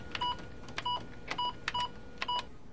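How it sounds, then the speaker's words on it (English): Fax machine keypad dialing a number, a run of about six short, clean two-tone beeps in uneven pairs, close and clear over a faint background hiss. "Next, dial the number."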